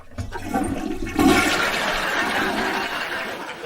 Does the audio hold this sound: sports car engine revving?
no